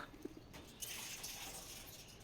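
Soft pigeon cooing, a couple of low murmuring coos early on, then a steady faint background hiss with no voices.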